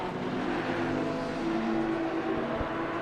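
Race car engines in the Assetto Corsa racing game drone and whir steadily at moderate level, a sustained layered hum of several cars with slight rises in pitch and no talk over it.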